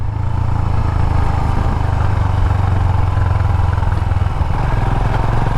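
A 2020 Royal Enfield Himalayan motorcycle rides through narrow, bumpy country lanes, its engine a loud, steady, close thrum with low rumble and wind noise throughout.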